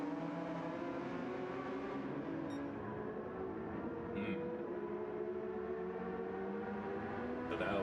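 Nissan GT-R and Porsche 992 GT race cars in a Gran Turismo 7 sprint championship race on PS5 Pro, their engines a steady, sustained high-revving drone that holds throughout.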